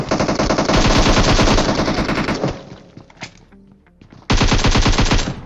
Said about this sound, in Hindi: अब मेरे पास शॉटगन थी तो चांस ले लेता हूँ।